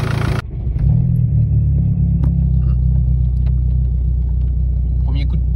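A modified VW TDI diesel with 300,000 km, just repaired after a broken timing belt, cranks and fires on the first turn of the key, then settles into a loud, close, steady rumbling idle with small clattery bursts.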